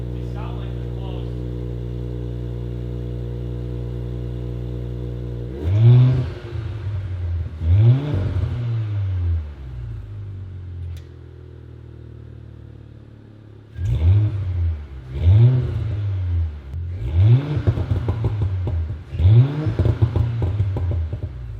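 A tuned Audi B9 S4 with Stage 1 ECU and Stage 2 TCU tune idles steadily, then revs hard in several repeated bursts with crackling exhaust pops, heard from inside the car with people talking between runs.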